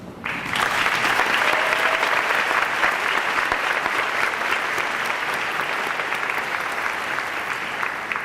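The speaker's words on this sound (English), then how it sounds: "Would all students whose names I just read please stand for applause?" Sustained applause from an audience at a high school senior awards ceremony as scholarship recipients stand, steady and dense throughout, with no speech over it.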